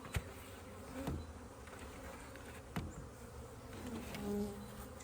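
Honeybees swarm around an opened nuc hive in a continuous faint buzzing drone, with a few sharp knocks from handling the equipment and no talk.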